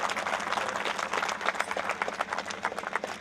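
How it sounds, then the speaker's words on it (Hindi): Applause from the crowd at a Rajput Karni Sena gathering in Umargaon, sustained dense clapping heard from a moderate distance throughout. "जोरदार ताली हो जाए, जोरदार"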